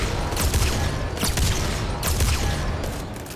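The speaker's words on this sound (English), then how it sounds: "Shooting missiles." Rapid volleys of enemy missiles launch in a Destiny 2 Grandmaster fight, loud, dense bursts of whooshing fire and impacts repeating in quick waves over a steady rumbling battle din.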